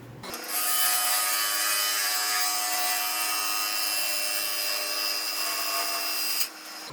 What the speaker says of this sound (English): So I am going to try to shape a good portion of it off with carbide.